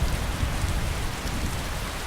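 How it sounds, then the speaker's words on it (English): Steady rain pours in the Skyrim city of Solitude, a continuous hiss of drops on surfaces with a soft low rumble underneath, even and unbroken with no talk. "where I am safe and snug and dry from this rain"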